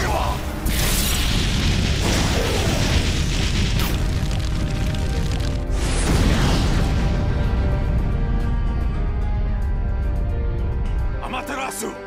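A Fire Style Firewall jutsu in Naruto Ultimate Ninja Storm 2 roars out as a loud, sustained rumbling blast with booming bursts and rushing whooshes, dense and continuous under shouted game voices before cutting off near the end.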